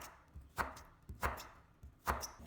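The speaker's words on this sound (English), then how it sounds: "Then cut into thin strips." A knife cutting half a carrot into thin strips on a board, giving three or four crisp, evenly spaced chops close up against a quiet background.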